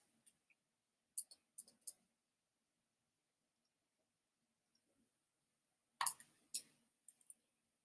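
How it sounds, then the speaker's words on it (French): Sharp mouse clicks on a computer while saving in WordPress: a quick cluster of three or four near 1 second, then a louder burst of several clicks around 6 to 7 seconds, with quiet in between. "Je vais cliquer sur enregistrer."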